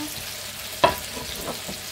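Minced beef steak searing in a pan, a steady soft sizzle under one sharp scrape or clatter near the start and a couple of lighter stirring knocks later.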